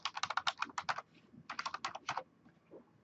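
Quick, crisp keystrokes on a computer keyboard while entering a username and password, two bursts of rapid typing separated by a short pause, close and fairly quiet.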